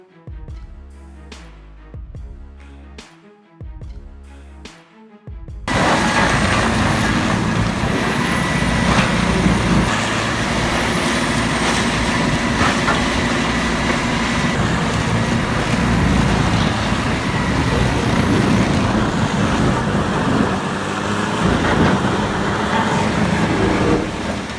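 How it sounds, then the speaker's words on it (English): A CBI 5400 grinder driven by a CAT 540 horsepower engine shreds scrap with a loud, steady mechanical roar and grinding clatter. A few seconds of unrelated music come first, then the sustained machine noise starts abruptly and continues to the end. "The CBI 5400 grinder, powered by a CAT 540 horsepower engine, delivers massive torque at low RPM."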